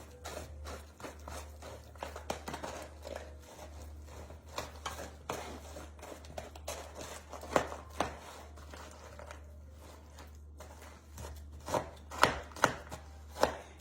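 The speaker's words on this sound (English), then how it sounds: "we're gonna mix all of this together. And yes, the potatoes are supposed to remain frozen." Frozen O'Brien potatoes, ham and cheese are stirred together for a casserole, giving irregular crunchy knocks and scrapes of a utensil against a bowl, with sharper clunks near the end and a low hum underneath.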